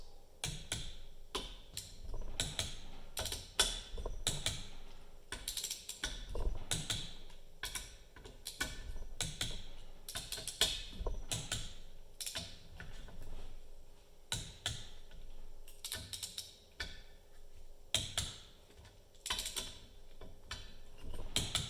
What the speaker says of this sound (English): Go around here and torque them all down to 18 foot-pounds.